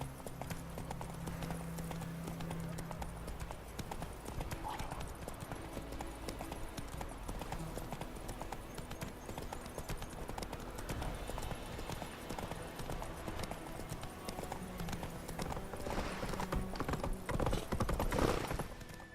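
Hooves of a galloping horse in The Witcher 3, a steady fast clip-clop running throughout under game ambience, with rattling tack and a louder swell near the end.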